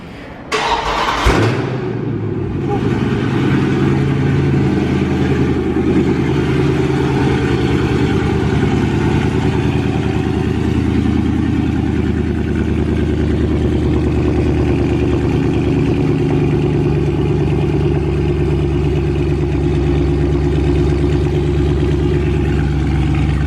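A Dodge Charger Scat Pack cranks and fires with a sharp burst, then settles into a loud, deep, burbling V8 rumble that holds steady and close for about twenty seconds, with no voices.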